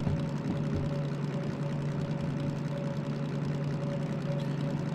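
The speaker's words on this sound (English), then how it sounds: "sounds like the engine's bogging down a little bit, but we're maintaining speed" Truck engine in a driving video game, a steady, loud low drone that labours and bogs down slightly while holding speed, continuous throughout with no talk.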